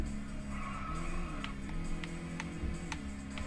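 A racing video game car drifts with tires squealing and skidding over a steady engine drone. The sound is continuous and fairly faint, with faint ticking clicks on top and no voices.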